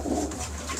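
A prized high-value breeding pigeon gives a short, low cooing call, brief and near, with no speech over it.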